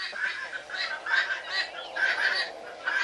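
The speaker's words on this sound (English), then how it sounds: "These are speckled Sussex. All of them in a line. There's roosters, then a hen, then a rooster," Speckled Sussex roosters and hens lined up together cluck in repeated short bursts, a close, busy run of fowl calls with no one speaking.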